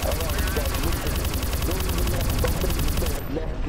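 Dense, continuous automatic gunfire from several weapons as players shoot zombies in the video game Counter-Strike: Source, loud and relentless throughout, stopping abruptly near the end.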